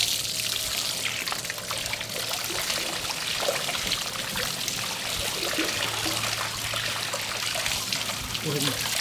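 Running water rinses blood from a striped bass fillet, a steady trickling and splashing wash at close range that continues throughout, with a voice talking over it.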